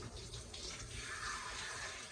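Tap water runs steadily into a sink while hands are rinsed under the stream, a continuous close splashing hiss with no talking.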